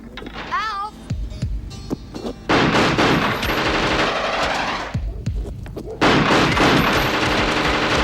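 Loud, rapid bursts of gunfire in a 1988 action film, the rattling volleys following each other closely after a short voice-like cry at the start.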